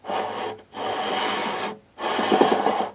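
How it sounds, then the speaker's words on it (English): Three bursts of close, steady abrasive rubbing with short pauses between, as a radius block with 320-grit sandpaper is sanded back and forth across the metal frets of an Ovation Celebrity guitar. "We take our radius sanding block using 320."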